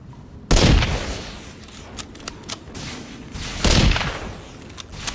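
Gunfire in the video game Sons of the Forest, two heavy booming shots about three seconds apart, each with a decaying tail, separated by quieter clicks and handling noises.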